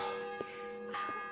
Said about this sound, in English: We're just ringing the town bell.